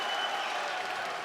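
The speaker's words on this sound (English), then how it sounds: "The crowd cheering this one home." An arena crowd at a UFC flyweight fight in Atlantic City roars and applauds in a thick, sustained wall of cheering that holds loud and steady throughout.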